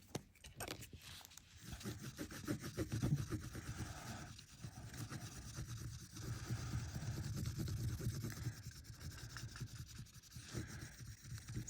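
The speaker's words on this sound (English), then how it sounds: "and now I'm going to ink it." Inking 70 micron embossed metal tape by hand, heard as continuous close rubbing and scrubbing strokes of moderate loudness with a few short pauses, no talk.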